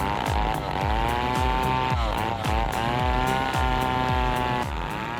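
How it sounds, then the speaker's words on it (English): A Stihl 880 chainsaw cutting a log in a forest roars continuously, its pitch repeatedly dipping and revving in a steady rhythm, loud and close. "the roar of the chainsaw fills the air"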